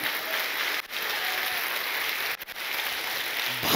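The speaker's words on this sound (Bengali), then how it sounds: "জোরে একবার প্রভুর জন্য করতালি দিই।" A church congregation claps for the Lord during a Bengali sermon, sustained loud hand-clapping with two brief dips before it resumes and swells again at the end.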